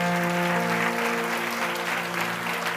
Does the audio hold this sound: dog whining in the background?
no